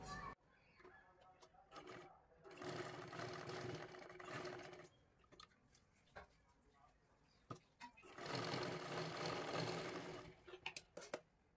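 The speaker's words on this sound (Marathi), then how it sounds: "आता हे आपल्याला इथून शिलाई करून पूर्ण व्यवस्थित इथपर्यंत घ्यायचं आहे" A sewing machine stitches a blouse sleeve in long bursts of steady, loud whirring, broken by pauses and short clicks between runs.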